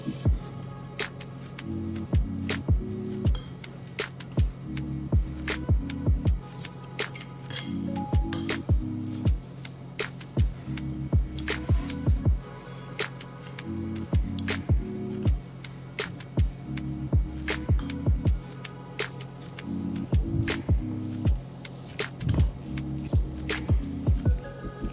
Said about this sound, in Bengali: কর্নফ্লাওয়ার এবং সমস্ত উপকরণ আমি খুব ভালোভাবে মিশিয়ে নিচ্ছি।